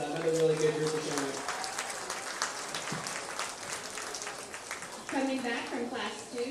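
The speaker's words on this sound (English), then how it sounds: "give this group here a big round of applause" Applause from a crowd at a livestock show ring during the 83rd Preston County Buckwheat Festival, honoring a group of young showmen. The steady clapping fills the space and runs under an announcer's voice.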